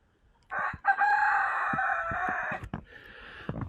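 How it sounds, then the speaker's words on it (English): Roosters crow on a quiet farm with a flock of chickens, one long loud crow running about two seconds and then shorter calls and clucks, close by and with no talk. "It's quiet other than the roosters."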